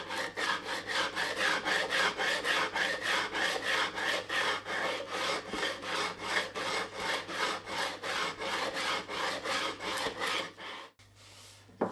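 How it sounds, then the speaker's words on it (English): Hand sanding of a wooden bike frame, rhythmic back-and-forth rasping strokes at a steady pace for about eleven seconds, close and loud, then stopping abruptly. "So I'll just keep sanding until that is smooth."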